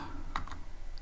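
A few quick keystrokes tap on a computer keyboard while Python code is being written, soft and close over a faint room hum.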